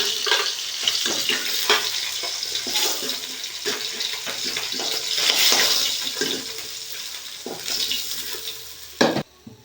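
Fish fries in hot oil for a fish curry with cauliflower and potato, a steady hiss with scraping stirs and clatters, fairly close and alone, ending in a sharp knock.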